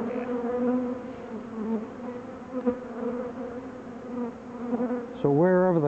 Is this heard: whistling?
no